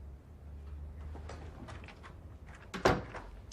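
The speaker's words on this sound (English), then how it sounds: "Close the door." An interior door pushed shut in an office, a single sharp thud near the end after a stretch of low room noise and faint movement.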